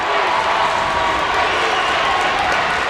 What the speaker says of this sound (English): And the crowd is on its feet.